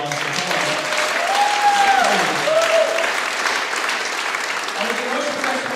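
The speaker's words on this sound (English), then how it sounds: "So a big round of applause for Tom." A vaudeville show audience breaks into steady, full applause that lasts the whole stretch, with voices calling and speaking over the clapping.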